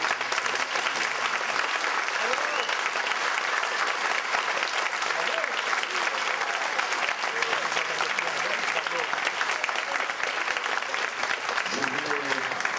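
A concert audience at a New Year's concert applauding steadily and loudly throughout, a dense, even wash of clapping with no break.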